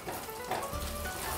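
Onion, tomato and cashew paste frying in a pan with a steady soft sizzle and crackle throughout, alone and moderately close.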